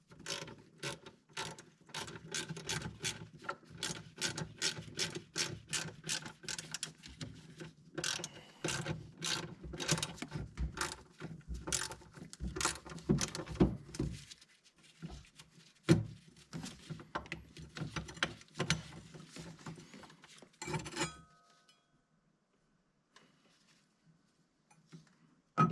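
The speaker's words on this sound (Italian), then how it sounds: "possiamo svitare con una chiave da 8 i bulloncini che tengono ancorata questa copertura superiore qui" An 8 mm wrench ratchets loose the small bolts holding the top engine cover of a 1.9 CDTI/JTDm diesel, rapid clicking bursts in quick runs, close and crisp, then trailing off into near silence.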